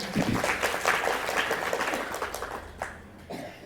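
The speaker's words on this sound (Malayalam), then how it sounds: "കൈയടിച്ച് ചേർത്താൽ നന്ദി പറയാം." Audience clapping at a church retreat, a dense, steady patter of many hands that thins and fades out toward the end.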